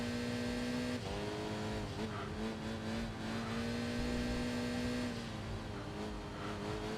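A touring race car engine in Enthusia Professional Racing holds near full throttle, a loud steady drone with harmonic whine that dips briefly at gear changes and climbs again, running alone without talk.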